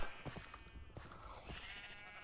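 Sheep in a video game bleating several times in quick succession, faint and close, with layered calls over a soft steady background and no talk.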